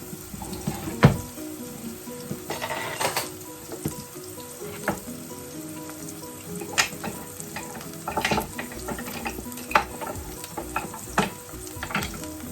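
Jollof rice with pepper paste cooking in a pot, a soft steady sizzle broken by intermittent sharp clinks and stirring knocks of a spoon against the pot, quiet and close.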